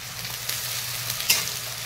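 Dried red chillies fry in hot oil for a red chicken dish, giving a close, constant crackling sizzle with a few sharper pops and spits and no talking.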